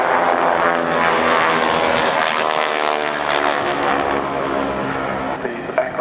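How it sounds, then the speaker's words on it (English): Harvard propeller aircraft looping at an air display, its propeller tips going supersonic, giving a loud, steady, rasping buzz that stays strong throughout and rises slightly near the end. "That typical Harvard sound as they go over the top, the propeller tips becoming supersonic."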